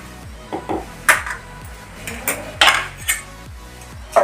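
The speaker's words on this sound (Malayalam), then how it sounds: "ഒരു തവി വെച്ചിട്ട് നന്നായി ഇങ്ങനെ ഉടച്ചെടുക്കുക" Boiled tapioca mashed in a pot with a metal ladle: repeated clinks and scrapes of metal on the pot, in an uneven rhythm of about eight knocks, close and fairly loud, with no voices.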